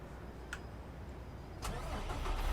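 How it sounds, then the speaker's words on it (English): A Cummins truck engine cranks and fires up in American Truck Simulator: a couple of faint clicks, then the engine catches and settles into a steady, growing idle rumble, heard alone. "Let's go ahead and start up the truck."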